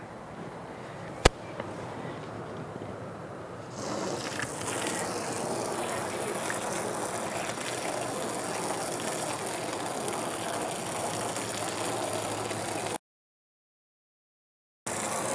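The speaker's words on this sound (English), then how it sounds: "Water hose time." Water hose spraying into an RV window track, starting as a sudden steady hiss and gush partway in and continuing evenly close to the microphone before cutting off briefly near the end.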